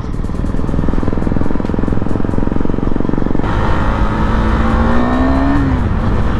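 A KTM superbike ridden on a monsoon hill road at Wilson Hill near Dharampur, Gujarat, drones loudly and steadily, then revs up into a rising whine that peaks and drops near the end, with no talking.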